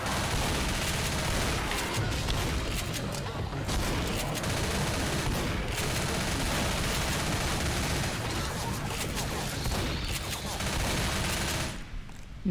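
Sustained gunfire in the video game Left 4 Dead, a relentless, dense barrage of overlapping rapid shots lasting about twelve seconds with almost no pauses, loud and close, easing off only at the very end.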